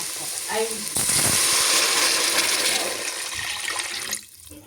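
Water poured into a hot pan of fish curry hisses and sizzles loudly, a broad steady rush that cuts off near the end.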